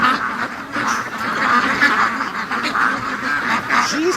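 Ducklings quack steadily in a barn, several small birds calling at once in a busy, continuous chorus at close range.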